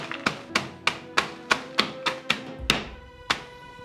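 Brazil nuts sealed in a bag get bashed with about eleven sharp, evenly spaced thunks, each a crisp close impact with a short tail, roughly three per second and alone without talk.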